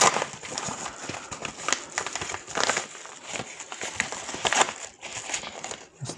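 Plastic packaging around a Comfast CF-943AX USB Wi-Fi 6 adapter is opened carefully, giving a steady stretch of close crinkling and crackling with small rustles and no talk.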